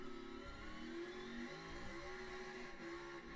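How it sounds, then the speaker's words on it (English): NASCAR Cup Series car accelerating at Sonoma Raceway, a mid-pitched engine note rising and shifting through gears, heard faintly and slightly distant with steady crowd-free broadcast ambience. "You hear him get back in the gas there?"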